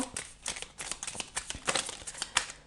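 Tarot cards being laid out and handled in a reading, with quick papery snaps, slides and shuffles in an irregular rhythm, close and fairly crisp, no talking.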